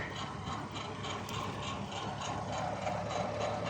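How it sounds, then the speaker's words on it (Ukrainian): A homemade wood chipper mounted on a mini tractor chops branches, giving a steady, faint mechanical whir with rapid ratcheting clatter and a low engine drone throughout. "Ще поріз працює, все рубає."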